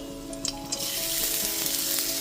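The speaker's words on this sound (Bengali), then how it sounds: "একটু নাড়াচাড়া করে গাজরটাও এখানে ভেজে নিয়েছি।" Chopped carrots frying in a pan for fried rice, a steady bright sizzle with a few stirring clicks and scrapes, close and continuous with no voices.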